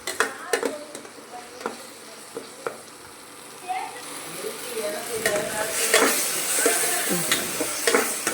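Onions and masala sautéing in hot oil in a pan for Tamil-style fish curry, with a steady sizzle, scraping stirs and sharp clinks of a spoon against the pan, growing busier toward the end.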